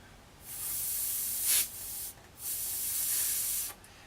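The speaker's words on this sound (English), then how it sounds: "So you can hear there that's leaking quite a bit down the bottom there." Two long, breathy hisses of air leaking from a clarinet's lower joint, each lasting over a second, with a short pause between; soft and close, with no tone behind them.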